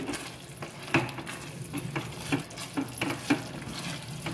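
Masoor lentils and cooked rice sautéed in a pan for a veg biryani, with soft sizzling and a rhythmic series of spoon scrapes and clinks against the pan, close and moderately quiet, no voices.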